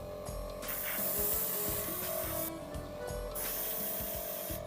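Aerosol can spraying a clear chipping-effect coat onto an HGUC Geara Zulu Gundam plastic model, two close, loud hissing bursts of about a second or more each, separated by a short pause, alone with no talk.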